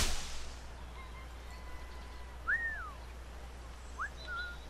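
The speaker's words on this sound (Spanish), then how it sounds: "Todos los assassins chiflan exactamente igual." Assassins whistling in Assassin's Creed Liberation HD, two faint short rising-falling whistles about a second and a half apart over quiet background hiss.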